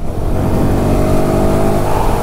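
Royal Enfield Guerrilla 450 single-cylinder motorcycle engine, ridden in eco mode, revs hard after a downshift to fourth gear, a loud close steady drone with rising harmonic pitch and no talk.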